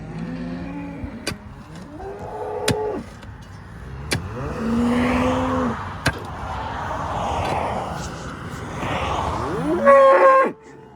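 Cattle moo repeatedly nearby, several drawn-out calls overlapping, with a few sharp clicks and background rumble in between.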